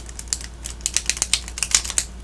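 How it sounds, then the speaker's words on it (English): An oracle card deck knocked together before shuffling, giving a quick run of about a dozen crisp, close taps and clicks that speed up slightly toward the end. "I'm going to knock their heads together"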